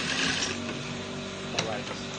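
A sewing machine stitches a child's garment sleeve, a steady close mechanical whir with a sharper clack of the mechanism partway through.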